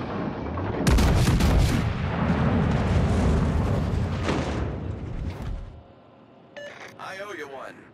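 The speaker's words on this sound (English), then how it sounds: "Fire on the designated target." Artillery fire striking a designated target in a military video game: heavy booming blasts and rumbling explosions dominate the first six seconds, then fade as a voice speaks over quieter game sound.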